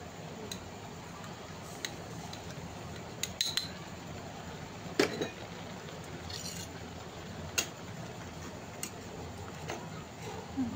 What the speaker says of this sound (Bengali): চিনিটা এবার ভালো করে আমরা নেড়ে নিলাম, মিশিয়ে নিলাম শসা আর দুধের সাথে